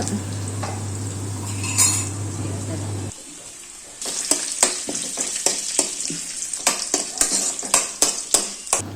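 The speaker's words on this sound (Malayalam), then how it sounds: "അപ്പോൾ അതിങ്ങനെ ഇളക്കി കൊടുത്ത് ഒരുമാതിരി മൂത്ത് വരുമ്പോഴത്തെ നമ്മൾ സൈഡിലേക്ക് ഇങ്ങനെ മാറ്റി വെച്ച്" Fenugreek seeds fry in a pan for rambutan pickle. A steady sizzle gives way to brisk, rhythmic scraping and clinking of a spoon stirring against the pan, with light talk at the start.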